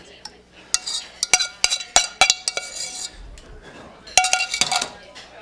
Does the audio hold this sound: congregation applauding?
no